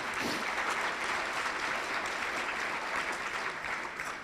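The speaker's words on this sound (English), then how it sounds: "a big round of applause for you guys" A crowd at a breast cancer fundraising walk kickoff event claps steadily in a dense, sustained round of applause that holds evenly for about four seconds with no break.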